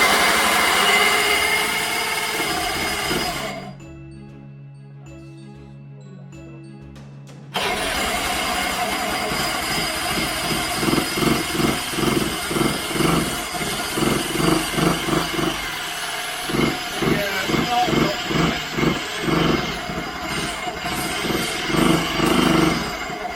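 Vespa ET4 scooter engine cranking and then starting, a loud mechanical churn that drops out briefly before a rough idle settles into a steady pulsing beat, revving up in repeated swells.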